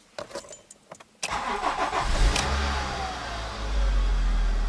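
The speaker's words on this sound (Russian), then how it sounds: "Машинка отлично завелась." A Honda Civic with a D17A engine, just fitted with a new timing belt, cranks in a garage after a few faint clicks, then catches and settles into a steady, close idle rumble.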